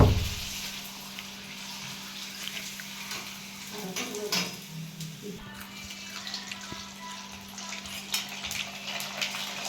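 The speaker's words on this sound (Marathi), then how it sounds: "मस्त का कुरडे टाकले तर कुरडे तळून घेऊ." Kurdai, crisp rice papads, fry in hot oil with a continuous broad hiss and bubbling, plus a few soft scrapes of a utensil against the pan.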